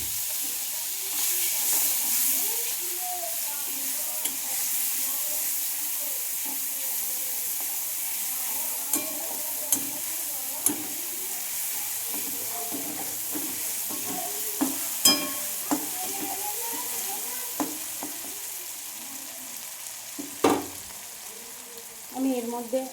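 Onion paste drops into hot oil and fries with a hissing, steamy sizzle that holds steady, broken by occasional sharp pops and stirring knocks, with no talk.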